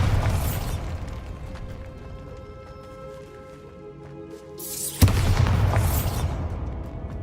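A Bombarda spell explosion in Hogwarts Legacy bursts with a sudden loud crack and roaring blast, following an earlier blast and a quieter, humming stretch.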